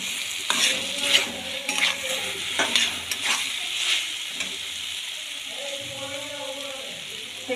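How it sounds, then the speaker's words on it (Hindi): Fried potatoes are stirred into cooking masala for dhaba-style egg curry, with close, repeated spoon scrapes and clatter against the pan over a gentle sizzle, then a voice talking briefly near the end. "अब मैं इसमें ऐड करूँगी फ्राई किया हुआ आलू।"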